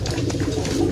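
A Javanese pigeon gives a low, soft coo close by, a brief murmuring call with no other sounds around it.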